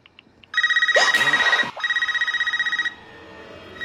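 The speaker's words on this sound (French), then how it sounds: "elle sait que le téléphone sonne?" A telephone rings in the horror film Scream 5, a loud close electronic trilling ring in two bursts with a brief gap, while a voice briefly speaks over the first burst.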